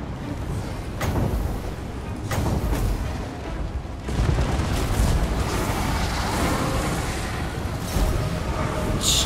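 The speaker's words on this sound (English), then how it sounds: "Did I just make one of their flame cannons go pop?" Flame cannons explode in the video game Total War: Warhammer 2, with loud booming bursts recurring every second or two over a dense, noisy battle din.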